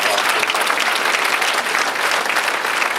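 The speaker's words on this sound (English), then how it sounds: "Big round of applause." Loud, dense audience applause fills a hall at a political speech, steady sustained clapping from a large crowd throughout, close and full.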